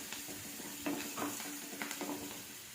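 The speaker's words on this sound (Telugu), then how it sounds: "కరివేపాకు, వెల్లుల్లి అవన్నీ కూడా బాగా ఫ్రై అవ్వాలి." Onions, curry leaves and garlic frying in hot oil, a steady close sizzle broken by a few soft stirring scrapes, with no voices.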